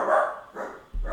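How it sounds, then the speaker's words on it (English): A dog barks a few times in short, separate bursts, moderately close in a quiet indoor setting. "And that's my dog."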